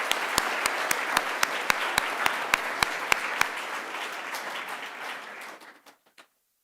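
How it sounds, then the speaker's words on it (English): Audience applauding at a sixth grade school awards ceremony, with dense steady clapping and a few sharp individual claps standing out, fading away over the last second. "Let's give these students one more round of applause."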